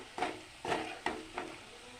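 Mutton curry with fried potatoes being sautéed in a pan, a quiet sizzle under four distinct stirring scrapes at a slow, uneven rhythm, close but soft, with no voices.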